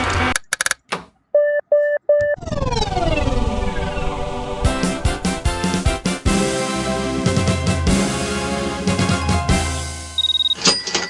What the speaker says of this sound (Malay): aku tunjuk macam mana bunyi kalau masa dah nak habis